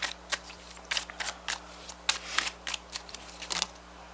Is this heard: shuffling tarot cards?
yes